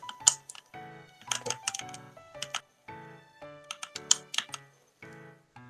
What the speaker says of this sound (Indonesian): Dengan mengetik perintah berikut